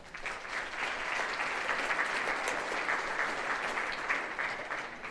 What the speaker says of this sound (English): If you can help me give them a round of applause